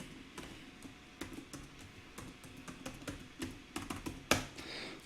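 Quick bursts of keystrokes on a computer keyboard as an email and password are entered, close and crisp, irregular taps in short runs with a louder final stroke.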